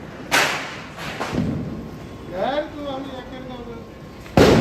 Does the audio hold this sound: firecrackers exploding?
yes